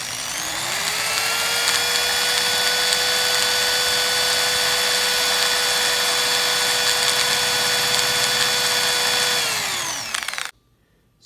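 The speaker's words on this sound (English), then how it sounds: "File the tip down to the desired thickness" A scrap metal soldering tip is worked down to a thinner shape with a power tool. Its steady, loud motor whine spins up at the start, holds for about nine seconds, then winds down and stops.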